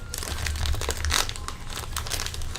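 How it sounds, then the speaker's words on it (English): Candy hearts crunched close to the microphone, a dense run of crisp crackling bites with a brief louder burst partway through. "I'm crunching ASMR."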